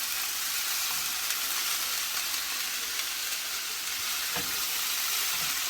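Chicken eggroll filling sizzling in a hot pan, a dense, steady hiss that stays loud and unbroken for several seconds, with a faint scrape or two from stirring and no voices.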